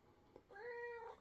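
Cat meowing at a closed door, a single drawn-out plaintive call close by in a quiet room.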